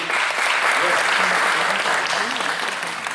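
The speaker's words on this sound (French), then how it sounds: "vous pouvez l'applaudir" An audience applauds a prize presenter at a library inauguration, loud sustained clapping that fills the room, with faint voices murmuring underneath.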